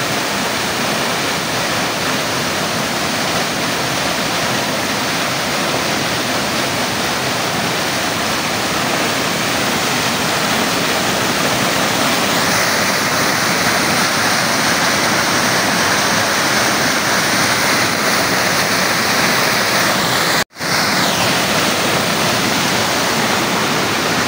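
Kawa-Kawa Falls in San Agustin, Romblon pours in a loud, constant broadband roar of falling water, steady and close throughout with one brief dropout near the end.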